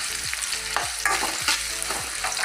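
Egg frying with chopped shallots in a pan: loud close sizzling under quick rhythmic spatula strokes, about two per second, with no talk.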